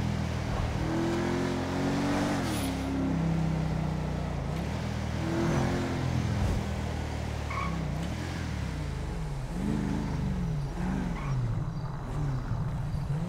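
A car in the FiveM (GTA V) video game drives with a continuous engine drone that revs up and down in wavering pitch sweeps, with occasional tyre skids and small knocks, fairly close and steady.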